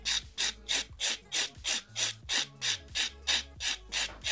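A 100 grit file works over pink and white competition acrylic nails in quick back-and-forth strokes, about a dozen short, even rasps in a brisk steady rhythm, heard close up.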